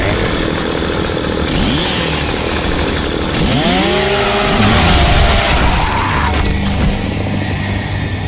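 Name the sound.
Lancer rifle chainsaw in Gears of War video game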